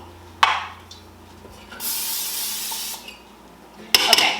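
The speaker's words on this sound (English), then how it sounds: "I'm going to take just regular non-cooking spray and spray the inside of the basket" Non-stick cooking spray hissing into the inside of a bread machine basket, one long steady spray of about a second bracketed by sharp clicks and knocks of the can and basket, close up with no talking.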